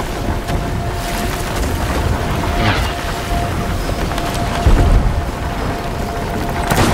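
Rapid volleys of gunfire and heavy booms from a naval boarding battle in a video game, loud and continuous over wind and sea ambience.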